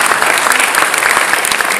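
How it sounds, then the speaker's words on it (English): Steady, dense applause from a conference audience for the five judges at a startup pitch competition, a continuous loud wash of clapping with no talk over it. "Huge round of applause for our 5 judges."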